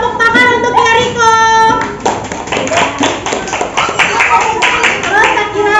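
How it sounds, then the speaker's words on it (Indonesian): A group of students claps for a classmate in a classroom, quick uneven hand claps starting after a voice speaks and continuing to the end. "tepuk tangan untuk Heriko."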